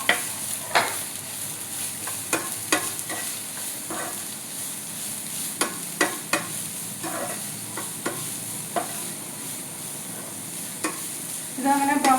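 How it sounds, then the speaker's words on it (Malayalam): Chopped onion sautéing in a pan for a vegetable stew, with a continuous soft sizzle and repeated sharp scrapes and taps of a spoon stirring, irregular and close, louder again at the very end. "കുറച്ച് നേരം സവാള ഇങ്ങനെ ഇളക്കി കൊടുത്താൽ മതി"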